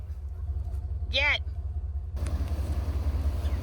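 A truck's engine rumbles low and steady as it backs out past a blockade, with a brief high whistling tone partway through before broader noise swells in.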